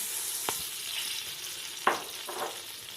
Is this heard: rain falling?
no